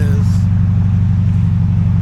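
A muffler-deleted Camaro exhaust idles at close range, a steady deep rumble with a pulsing low throb and no revving.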